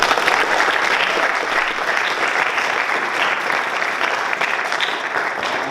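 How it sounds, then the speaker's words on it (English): A school audience applauds student speakers at an evening talks event, steady dense clapping sustained throughout at close range with no speech over it. "So another round of applause."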